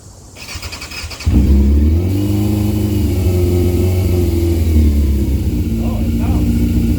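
A Yamaha YZF600R motorcycle with refitted exhaust headers cranks and catches on choke, then settles into a loud, steady, fast idle close by. A voice speaks briefly near the end.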